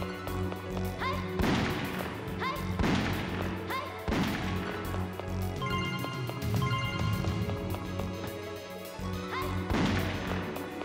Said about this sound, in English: Alright, we're gonna drop the bomb.